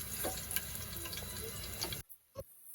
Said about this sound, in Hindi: ये पानी टपक रहा है, और ये नीचे जो है ना वो दे रही है, लीक हो रही है।